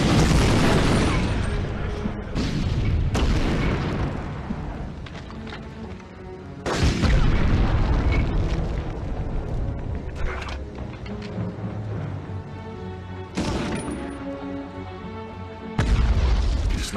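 Gunfire and explosions from the PS1 video game Medal of Honor, with loud booms and bursts of shots recurring throughout, dense and close, layered over a game music bed.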